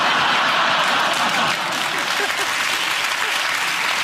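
Steady, dense applause from a studio audience at a TV news comedy show fills the space, loud and even throughout, with no voices on top.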